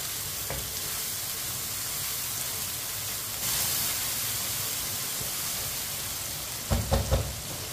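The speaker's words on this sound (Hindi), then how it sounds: "इसी तरह चम्मच चलाते हुए टमाटर को पका लेना।" Tomatoes cook in a hot pan and hiss with a steady sizzle and frying, with a few scrapes of a stirring spoon near the end, all close and with no talk.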